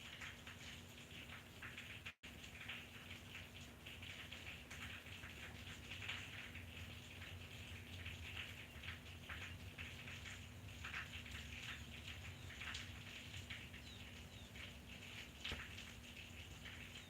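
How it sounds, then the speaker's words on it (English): Steady rain falling with a dense, even patter and occasional sharper drop hits, continuous and fairly soft throughout, with a low constant hum underneath. "Enjoy this little rain thing."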